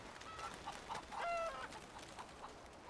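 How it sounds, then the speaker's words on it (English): Chickens cluck in Red Dead Redemption 2, a few soft, scattered clucks and short calls heard faintly over quiet game ambience. "Do you have any new kinds of chickens that I haven't seen?"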